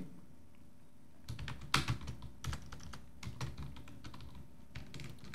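Fingers tap on a computer keyboard while HTML code is written, the close clicks coming in irregular clusters with short pauses and one heavier keystroke, and no voice over them.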